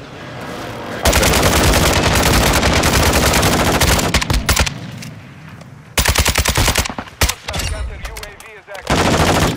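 Sustained automatic gunfire from Call of Duty: Warzone 2.0 quads play, loud dense bursts of rapid shots with brief gaps, a voice faintly heard beneath.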